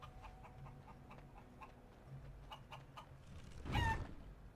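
Chicken in the fantasy RPG Dragon Age: Origins, with a few soft clucks over a low game ambience and one louder squawking burst near the end.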